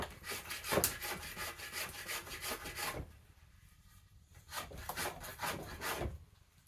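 A rasp filing the wood of a yew bow stave, in quick rhythmic scraping strokes, a burst of about a dozen strokes, a short pause, then several more, close and fairly quiet.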